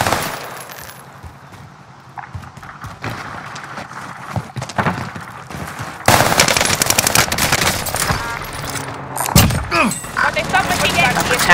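Video game gunfire during a tense battle, rapid automatic bursts and cracks growing loud and dense in the second half, with voices talking over the shooting throughout.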